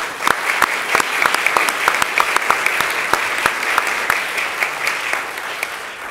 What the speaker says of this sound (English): Another round of applause for this team.